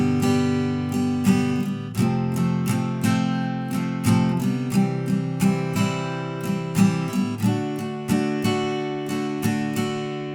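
An acoustic guitar strums the chords of a song in an even strumming pattern, bright and close, with regular chord changes and no voices.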